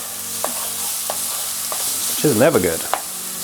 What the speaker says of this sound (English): So while that's just frying away in the hot oil, put the spoon there